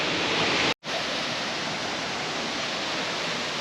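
King George Falls roars as a steady, loud broadband rush of falling water heard up close, with a brief momentary dropout early on and no voices.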